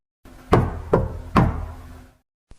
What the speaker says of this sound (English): Until the night someone knocked. 3 soft taps.